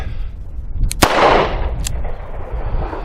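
A single sharp report from a Smith & Wesson M&P Bodyguard .38 Special revolver, loud and close, with a brief decaying echo and a faint second click afterward against outdoor background noise.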